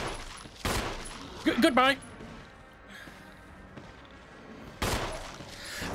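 Gunfire from the video game Resident Evil 1 comes as a few bursts of rapid shots, with a sharp cluster in the middle and heavier blasts at the start and end, moderately loud, while a player talks over the game.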